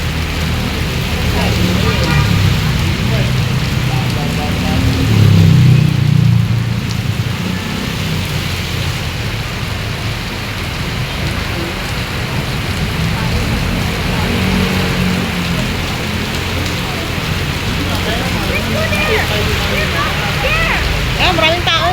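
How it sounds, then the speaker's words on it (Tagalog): Heavy rain pours steadily and loudly throughout, with a dense continuous wash and occasional low rumbles, while people talk intermittently over it. "Lagas ang ulan."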